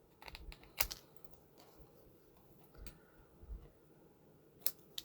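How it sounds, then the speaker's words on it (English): Scissors snipping the edges off paper for a card project, a few crisp close clicks spread across quiet moments, with faint handling noise between cuts. "And then I'll just snip off those edges."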